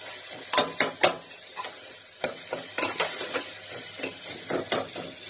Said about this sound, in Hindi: इसको मैं दो तीन मिनट तक अभी ऐसे ही भूनूंगी